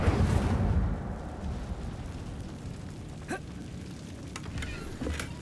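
Incendio fire spell cast in the Hogwarts Legacy video game: a loud, whooshing fiery burst opens, then fades into a low rumble with a few faint crackling pops.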